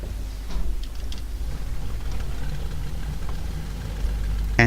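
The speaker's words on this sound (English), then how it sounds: "And the engine is running." A Messerschmitt Bf 109 E-4 engine running in a flight simulator game, a low, steady idling drone with a faint rough knock, fairly even in level, with no talk over it.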